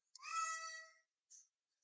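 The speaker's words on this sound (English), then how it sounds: "that's my cat" A house cat gives one clear, drawn-out meow followed by a brief, softer chirp, heard close and alone against silence.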